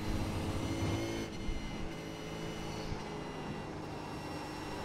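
V8 Supercar engine in the iRacing sim at Mugello, a steady loud droning roar that dips briefly and settles back to a constant hum as the car gets back on the throttle.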